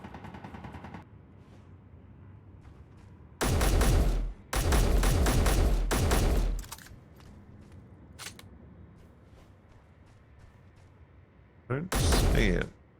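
Bursts of automatic gunfire in Space Engineers as a turret on a building corner is shot up: three long loud rattling volleys, then a quieter stretch with faint pops, and a final short burst, with voices talking in between.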